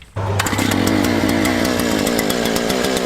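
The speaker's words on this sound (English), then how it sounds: "Now we'll fire up the auger, start drilling." A gas-powered auger fires up and runs for post holes on a 300 ft privacy fence build, a loud steady engine drone starting abruptly after a brief pause and holding constant up close.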